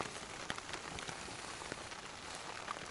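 Wind and steady rain patter on a tent in the taiga at night, a faint continuous hiss with scattered sharper drop ticks, heard alone.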